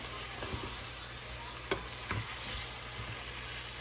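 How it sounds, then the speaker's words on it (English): Karahi chicken frying in hot oil with a steady sizzle, stirred with a few scraping knocks against the pan, close and fairly quiet, no voices. "Gotta stir it. I don't want you to get hurt with the oil."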